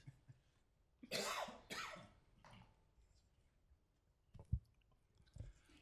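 Two sharp coughs in quick succession, followed by a softer third, then quiet shuffling and small handling noises in a still city council meeting room.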